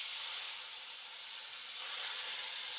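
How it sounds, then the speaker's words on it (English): Balsamic vinegar hits a hot pan used to sear filet mignon, giving a steady, fairly faint hiss and sizzle that stays even throughout with no talking. "I'm just going to do that to deglaze a little bit of what's in the pan"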